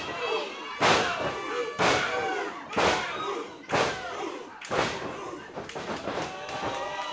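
Punches land at a wrestling match as a run of about seven heavy, evenly spaced thuds, each followed by crowd noise.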